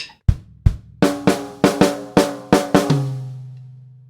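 Drum kit played in a swung shuffle feel: about ten sharp, close strikes in an uneven lilting rhythm, the last leaving a low drum ringing out alone.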